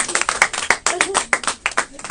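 An audience claps in a sharp, uneven rhythm of close, loud hand claps, with a voice heard faintly amid the clapping.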